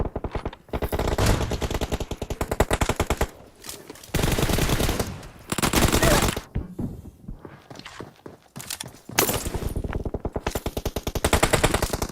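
Automatic gunfire bursts in the battle royale game PUBG, loud and close, rattling in long rapid volleys separated by short pauses, with a few scattered single shots and footstep-like thuds between the bursts.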